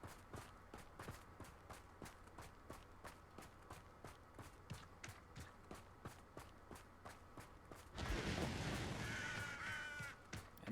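Crows caw in Hogwarts Legacy over steady, evenly paced footsteps, then a louder rushing burst of sound rises near the end.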